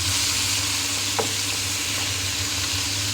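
Meat sautés in ghee in a pan, giving a loud, dense, even sizzle up close, with one brief scrape of stirring partway through.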